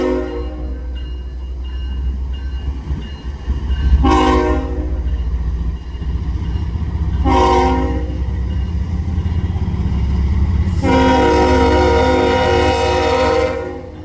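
A freight train with an SD60 locomotive sounds its horn in three loud sustained blasts, the last the longest, over a steady heavy rumble of rail cars rolling past close by.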